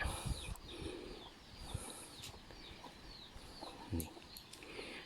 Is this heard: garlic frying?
no